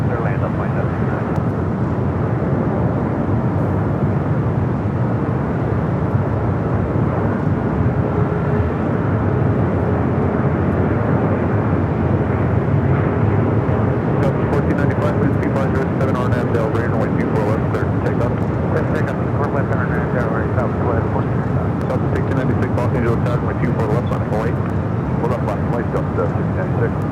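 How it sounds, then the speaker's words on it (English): An aircraft landing on runway 24 right at Los Angeles International Airport: a steady, loud roar of jet engines and rushing wind that holds for the whole stretch, with a voice speaking faintly underneath. "Touching down at 24 right."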